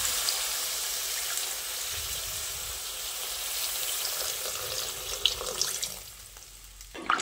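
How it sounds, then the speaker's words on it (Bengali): Water poured into a pan of frying flat beans and potato curry, a steady hiss and sizzle with a few splashy bursts toward the end, fairly quiet and alone. "এবার এই পর্যায়ে পরিমাণ মতো জল দিয়ে দিচ্ছি"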